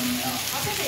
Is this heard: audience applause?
no